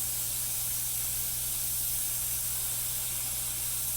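Steady roaring hiss of an oxy-acetylene torch flame welding steel, with mill scale flying off the heated metal; continuous and fairly loud, no voices.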